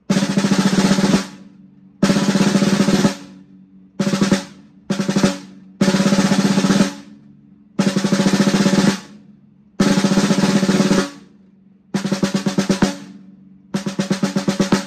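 Open rolls played on a snare drum come in repeated bursts of rapid, buzzing strokes, roughly one second each with short silent gaps, loud and close with no talking.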